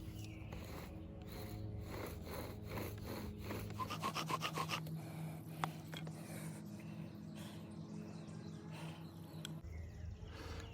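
Bow drill friction fire-starting on a pine 2x4 board, with a spindle grinding back and forth in a steady, rasping sawing rhythm; strokes are quick and fairly faint, with no talking.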